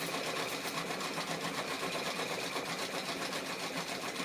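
Sewing machine stitching briefly, a quiet, even, rapid buzzing hum with fine regular pulsing, close and alone without talk.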